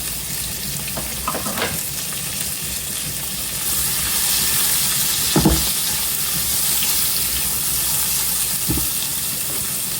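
Onions frying in a pan give a constant close hiss and sizzle that swells partway through, with a few sharp clinks of a utensil against the pan.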